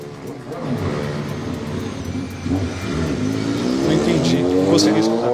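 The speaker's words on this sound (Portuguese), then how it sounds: "Acho que passou um carro rapidinho aí" A car passes by quickly outside, a loud, steady engine and tire roar that builds and rises in pitch over several seconds with no talking.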